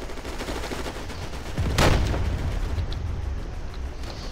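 In WWII Online combat, a single loud gunshot cracks out over a steady background rumble, followed by a lingering roll of noise as the battle continues.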